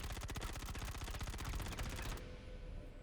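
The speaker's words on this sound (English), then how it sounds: "Let's shoot it open. Second mag." In the video game Star Citizen, a rapid automatic weapon burst fires to shoot open a wreck, loud, evenly spaced shots for about two seconds, then a low hum with the ringing tail fading.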